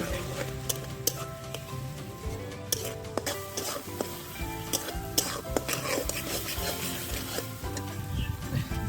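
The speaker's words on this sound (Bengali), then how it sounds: "জিরে গুঁড়ো এক দু চামচ ধনে গুঁড়ো কাশ্মীরি লঙ্কার গুঁড়ো এক দু চামচ দিয়ে মশলাটাকে এবার ভালোভাবে কষে নেব" Cumin, coriander and Kashmiri chilli powders fry in a pan for a village-style aar fish jhal, a steady close sizzle under repeated scraping spoon strokes and occasional clinks against the vessel, with no voices.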